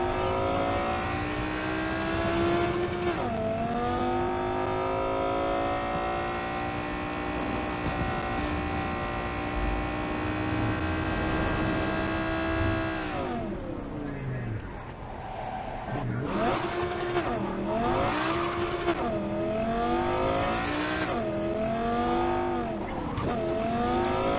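A car in the Cyberpunk 2077 video game drives with a loud, sustained engine roar, its pitch rising and falling as it accelerates, with tire skidding and sliding sounds mixed in. Someone talks over it.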